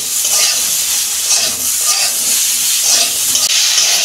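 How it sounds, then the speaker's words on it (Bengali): Mixed vegetables with salt and turmeric fry in a pan with a steady, loud sizzle and crackle throughout, broken by occasional stirring scrapes. "এই 2 মিনিট একটু ভেজে নেব।"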